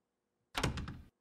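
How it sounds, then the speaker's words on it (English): A door slammed shut, one short heavy thump with a brief rattle after it, breaking an otherwise quiet background. "Cleveland, slam the door."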